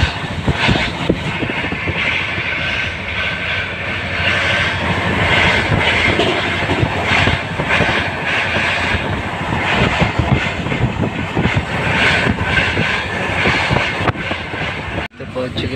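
A passenger train arriving at New Delhi station, with a steady loud rumble and rolling rattle of the carriages heard from inside, continuous throughout with a brief dip near the end.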